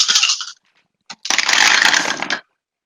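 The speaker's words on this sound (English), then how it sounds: "That is a lot of dice I heard rolling." Ten dice rattle and tumble loudly in a game, a short burst of clattering followed by a pause, a single click, then a longer rolling clatter that stops abruptly.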